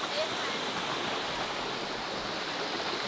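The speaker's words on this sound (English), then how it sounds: "we're just gonna hang out at the top of this waterfall here" Continuous rushing of a waterfall heard from the top of the falls at Jourama Falls in tropical north Queensland, a steady broadband wash of water with no talk.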